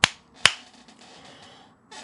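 Two sharp hand claps serving as a film slate, the first at the very start and the second about half a second later, loud and close, followed by a quiet room tail.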